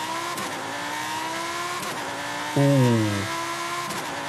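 A 2018 Lamborghini Huracan Super Trofeo Evo race car in Forza Horizon 5 idles with a buzzy engine tone, then revs sharply in one loud, rising blip that falls back to idle, heard up close.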